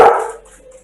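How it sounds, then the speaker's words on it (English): A single dog bark comes from somewhere off-mic during a casual podcast conversation. It is one short, fairly loud yap that fades into a faint tail within a second, with no talk over it. "Oh, he's barking."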